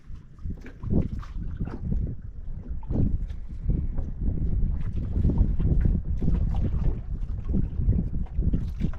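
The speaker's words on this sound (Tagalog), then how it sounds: "Hangin, hangin, amihan" Strong gusting wind buffets the microphone in low, uneven rumbles, steady and close throughout.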